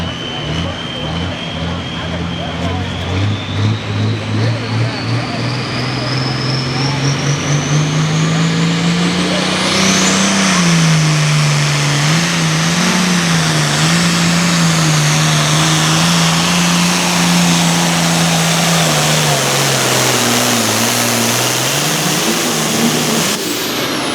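An International farm tractor drags a Pioneer sled at a Super Pro farm tractor pull at Millers Tavern. Its engine roars loud and close without a break, climbing in pitch and then holding a strained, wavering drone.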